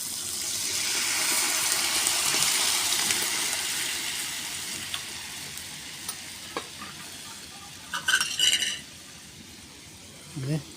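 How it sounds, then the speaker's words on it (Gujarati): Urad dal tipped into a pan of cooking tomato masala gives a broad frying sizzle, loudest early and easing off. Stirring taps and a brief clatter come near the end, and a voice talks over it. "હવે આપણે અડદની દાળ અંદર નાખી દઈએ"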